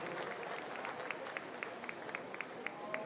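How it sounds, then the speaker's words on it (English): An audience applauds at a World Championship Campdraft round-four event, a steady wash of distant clapping with scattered sharper claps that lasts about three seconds. "But give him a round of applause."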